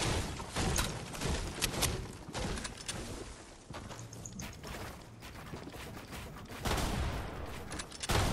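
Rapid gunfire in a video game crackles in dense bursts and fusillades, sharp repeated shots spread across the whole stretch, fairly distant and uneven in loudness.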